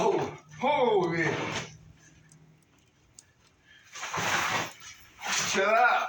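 A dog barks and whimpers in short yipping bursts with quiet gaps between them, close by and mixed with a person talking.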